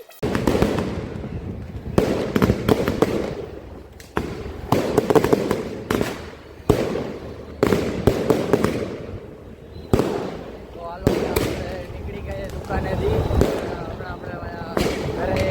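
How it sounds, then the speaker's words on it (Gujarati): Diwali firecrackers burst one after another in sharp, loud cracks, some in quick clusters, with brief pauses and a few voices between. "ચાલુ થઈ ગયા છે ફટાકડા."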